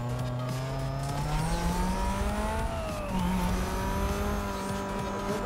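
A race car from Need for Speed with upgraded brakes and wheels holds a steady engine drone that rises and falls through gear changes, accelerating alone with no talk.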